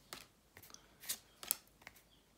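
A Pokémon card booster pack is torn and opened, giving a few soft, quiet crinkling rips and foil crackles spaced across a couple of seconds, close and alone.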